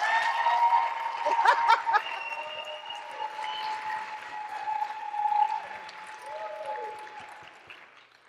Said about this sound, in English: So please, as the last speaker of the night, huge round of applause for Shawna Urbanski.